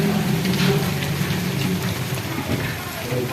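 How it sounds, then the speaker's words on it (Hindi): Heavy monsoon rain pouring down outdoors, a loud continuous hiss and patter of drops striking surfaces below, with a low rumbling undertone and a voice speaking faintly beneath it. "ये देखें नीचे जी कितनी बारिश आ गई है।"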